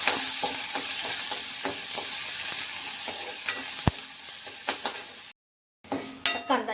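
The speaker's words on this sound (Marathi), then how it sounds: "थोडंसं तेल टाकते मी अगोदर, अगदी थोडं टाकायचं. कांदा पण छान ब्राऊन होईपर्यंत भाजून घ्यायचा." Chopped onion frying in a little oil in a pan, cooked until brown: a steady broadband sizzle with occasional spatula scrapes and clinks, close and fairly loud, cutting out briefly near the end before resuming with a few utensil knocks.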